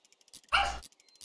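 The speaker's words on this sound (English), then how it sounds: "Sorry about the dogs." A single loud dog bark rings out close by, followed by faint ticks and a smaller yelp in the background of an otherwise quiet room.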